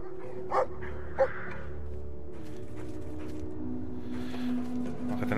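In the video game Brothers: A Tale of Two Sons, a guard dog gives two short barks near the start over a steady hum of game ambience, followed by softer whimpering sounds.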